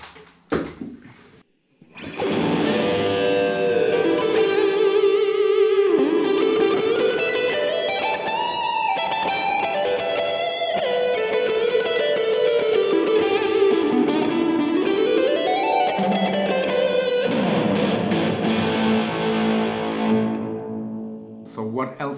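Electric guitar played through a Boss DS-1 distortion pedal into a Two Notes Torpedo Captor X, a loud fuzzy overdriven tone with sustained notes and sliding melodic runs lasting about twenty seconds.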